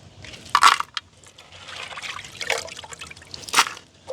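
Crab being washed by hand in water, with irregular close splashes, sloshing and trickles coming in short bursts.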